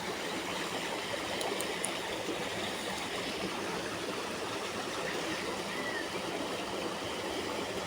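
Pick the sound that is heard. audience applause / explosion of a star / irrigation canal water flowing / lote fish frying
irrigation canal water flowing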